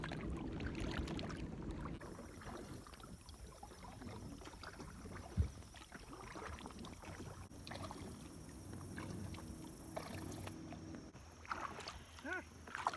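A kayak paddled on calm water in a quiet cove, paddle strokes dipping and swishing at an easy rhythm, close by, with outdoor wind and faint wildlife sounds around.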